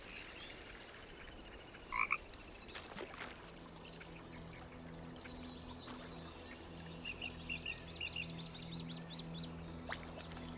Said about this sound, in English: That's a big old frog.